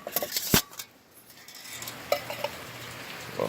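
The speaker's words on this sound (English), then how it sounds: "Go ahead and put my pot on here." A sharp metallic clank as a metal pot lands on a cat stove with an aluminum windscreen, followed by softer rattles and a low hiss.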